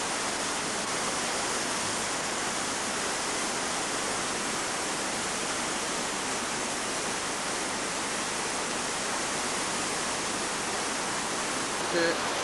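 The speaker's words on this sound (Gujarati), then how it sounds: "અને આ સાઈડેથી પાણી આવે છે અને આ બે વચ્ચે સંગમ થાય એટલે બંને બાજુથી નદી અહીંયા ભેગી થાય છે." River water at the Devprayag confluence, where two rivers meet below the town, gives a continuous, even roar of flowing water, moderately loud and unchanging throughout, with no clear talk over it.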